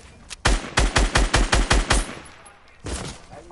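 A rapid burst of about eight booming machine-gun shots in a video game on PS4, in quick rhythm, followed by a short pause and one more blast, loud and close.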